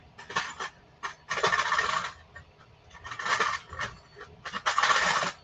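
Metal corner pieces rattle and clink while pulled out of a small drawer, several bursts of jangling metal separated by short pauses, close and fairly loud.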